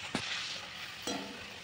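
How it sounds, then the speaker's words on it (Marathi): Puris deep-fry in hot oil with a soft, constant sizzle, and two brief louder bursts of bubbling break in as dough is moved or added. "आणखी इकडे तळून घेत आहे"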